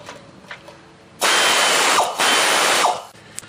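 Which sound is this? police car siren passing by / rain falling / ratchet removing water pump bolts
ratchet removing water pump bolts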